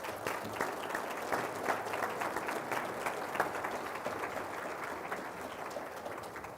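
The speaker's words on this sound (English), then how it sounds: "Let's give a big round of applause to George Teal." Audience at a county State of the County event giving a round of applause, continuous crisp clapping from many hands with a few louder individual claps standing out, steady throughout.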